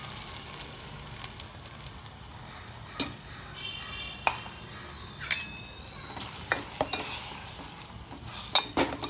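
Chili and onion frying in a pan for a Malvani fish curry, with a steady sizzle and occasional scrapes and clinks of stirring, close and without talk.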